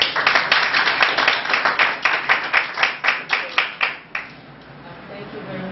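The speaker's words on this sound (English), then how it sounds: "Let's give her a round of applause." An audience gives a speaker a round of applause, a dense burst of clapping that breaks into rhythmic, fading claps and then stops, with talking underneath.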